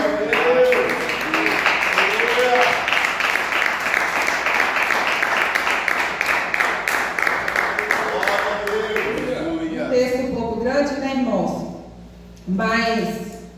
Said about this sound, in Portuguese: as palmas glorificam o nome do Senhor Jesus